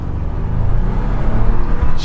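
A 2021 Ford F-150 pickup revs under hard acceleration, a steady, loud low engine rumble that swells slightly as it pulls, with no talk over it.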